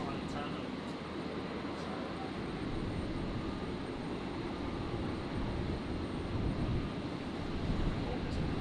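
A Jetstar jet airliner roars steadily on takeoff from runway 01 right at Brisbane International Airport on a stormy night, a continuous loud broadband engine rumble with no clear pauses.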